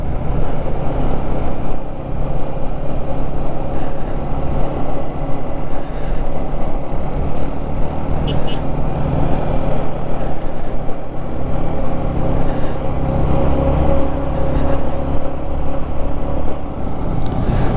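A group of three motorbikes rides along a hilly road in Meghalaya with a steady, loud engine drone and wind rumble that continues without pause for the whole stretch.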